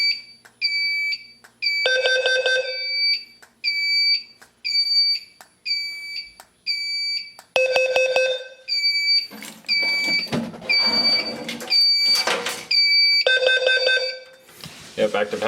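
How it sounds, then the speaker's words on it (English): A carbon monoxide hazard alert sounds on a Fire Lite MS-9200UDLS fire alarm control panel, a loud repeating pattern of electronic tone bursts with short gaps, later overlapped by talking and clatter. "Yep, active hazard alert, carbon monoxide."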